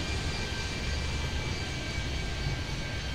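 Aircraft engines in the video game Airport Madness 3D, set at Miami airport, drone as a steady, even roar that holds at a constant level for the whole stretch, with no speech over it.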